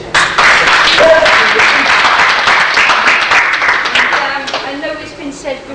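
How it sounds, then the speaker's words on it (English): Audience clapping at the closing ceremony of the Armadacon 19 convention, sustained and fairly loud before slowly thinning out over about six seconds. "we would like to give you a round of applause for turning up and making it a good weekend"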